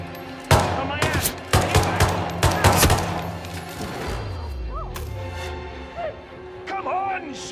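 Rapid bursts of gunfire in the video game Hitman 3, several sharp loud volleys in quick succession, then a lull with shouting voices and scattered clatter.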